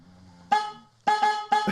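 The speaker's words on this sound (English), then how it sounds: "they literally have like an air horn and they're trying to wake him up" Loud air horn blasts aimed at waking a sleeping person indoors: one long harmonic blare, a pause, then two more bursts in quick succession, close and piercing.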